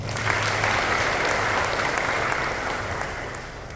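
A church congregation bursts into hearty clapping, a dense, close burst of applause lasting a few seconds and easing slightly toward the end, with no speech over it.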